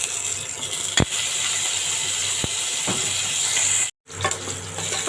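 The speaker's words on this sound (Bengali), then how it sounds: "এখন আমি পটলগুলো ভেজে নেব।" Pointed gourd pieces coated with turmeric, chilli and salt fry in mustard oil, a steady loud sizzle and hiss throughout with a few sharp clicks of stirring, briefly cut off near the end before the sizzle resumes.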